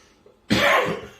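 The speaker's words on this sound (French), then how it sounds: "J'ai une violente toux qui ne veut pas partir" A single harsh cough bursts out close by after a moment of quiet.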